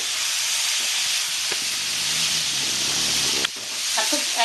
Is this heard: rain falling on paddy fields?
no